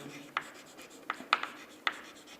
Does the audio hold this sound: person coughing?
no